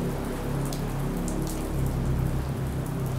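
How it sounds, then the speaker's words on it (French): Icy rain falls steadily on a cold night in Madrid, a dense, even hiss of drops hitting hard surfaces close by, constant and unbroken with no voices. "Et une pluie glaciale tombe sur Madrid"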